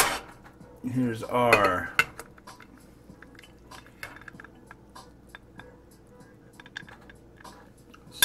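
Plate and cutlery clatter as a table is set for Sriracha spicy instant ramen from South Korea, with a burst of close clinking and scraping early on, followed by quieter scattered taps and a brief spoken phrase.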